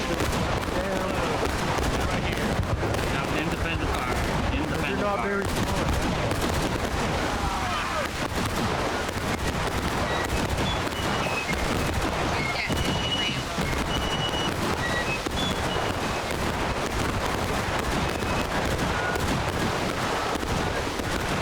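Scattered, independent musket shots crack continuously across a Civil War-era battlefield in the War of Rights game, a dense, steady stream of overlapping gunfire at varying distances with a voice speaking occasionally underneath.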